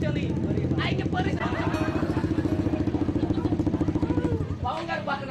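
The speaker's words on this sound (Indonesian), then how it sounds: "dengerin knalpot ini enak gak ke telinga?" A motorcycle fitted with a loud aftermarket exhaust idles close by, its steady pulsing rumble running throughout, with crowd chatter and occasional voices mixed over it.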